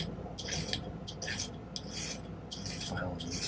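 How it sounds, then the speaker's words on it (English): A hand file works a silver spinner ring flat: quiet rasping strokes arrive in a regular rhythm of about five to six passes, each a short bright scrape, over faint background noise. "Spend a little time filing these"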